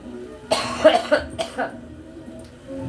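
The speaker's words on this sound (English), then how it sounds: "when you have COVID and you're coughing your ass off" A person with COVID lets out a short burst of harsh, close coughs, two or three rough hacks within about a second, then quiet.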